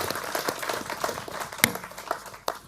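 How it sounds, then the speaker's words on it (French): Brief, scattered clapping from a small audience at a safety awards ceremony for prize winner Pierre Fehr, with a few sharper individual claps standing out near the end. "Eh bien, Pierre Fehr, on peut l'applaudir."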